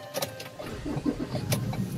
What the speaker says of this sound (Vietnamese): Tôi sẽ nổ máy lên cho quý bạn cùng xem.